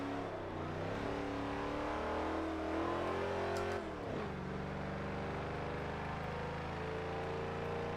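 An 800hp GMC Vandura van in Forza 7 drives steadily with a loud, continuous engine drone that shifts pitch around the middle as the revs drop and climb again.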